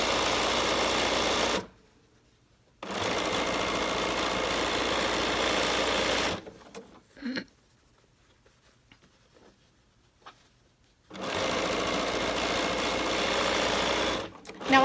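A sewing machine stitches binding onto a fabric face mask in bursts of steady, close mechanical whirring, broken by pauses and a few soft handling clicks.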